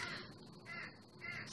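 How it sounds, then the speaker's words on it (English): A crow caws two or three times in quick succession, harsh and fairly close, standing alone with no talk over it. "and that crow."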